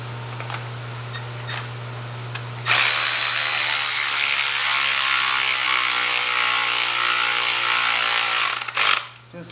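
Ratchet tightening a part during final assembly on a Subaru BRZ build: a few isolated clicks, then a long loud continuous run of fast ratcheting clatter lasting about six seconds, close up over a steady low hum.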